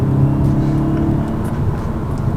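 A 2016 Audi S3 Prestige on the road through a long sweeping turn, its engine drone steady and loud with low rumbling tones that shift subtly as the transmission changes gears, continuous and close without any voices.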